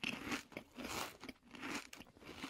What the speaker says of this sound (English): The chewing is the worst ASMR.